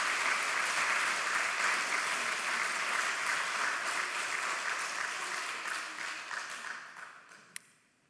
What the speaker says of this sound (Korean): 서로 격려하면서 박수하시면 좋겠습니다